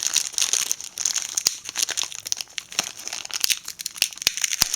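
Plastic packaging being crinkled and torn open around brand-new, never-opened HTC Touch documentation, close-up rustling with sharp crackles and snaps in an irregular rhythm, no talking.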